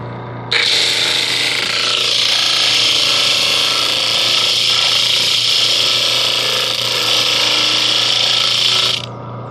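A homemade disc sander runs loud and close with a steady high whirring grind that starts abruptly, holds evenly for about eight seconds, then cuts off.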